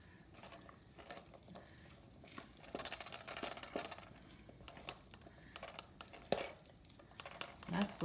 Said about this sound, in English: We're just going to stir it together.